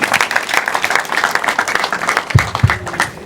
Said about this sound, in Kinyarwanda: Nanjye reka nkusabire amashyi abantu bose bagushimira